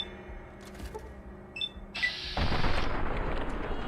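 Gunfire in Fallout: New Vegas on the Lonesome Road, starting with a few sharp scattered reports and then a sustained loud burst of rapid firing over a dense game soundscape.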